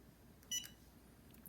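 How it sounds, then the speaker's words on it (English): A heat press timer gives a single short, high electronic beep as it starts during a T-shirt transfer, faint and quick against a quiet room. "And this time I will start the timer."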